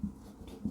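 Writing during a lecture, two soft low scratching strokes, one at the start and one near the end, with quiet room tone between.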